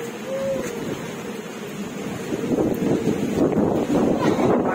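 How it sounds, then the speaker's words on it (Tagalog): Strong gusts from Super Typhoon Karding roar across the microphone in Cabanatuan, a heavy rumbling rush that swells louder toward the end, with a person's voice faintly heard under the storm. "Ang lakas talaga ng hangin."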